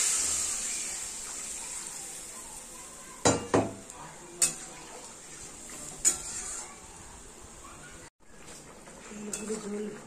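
Hilsa fish curry in a pan as water is added and stirred in, with a steady background hiss of cooking and several sharp utensil knocks and scrapes against the pot spread through the clip.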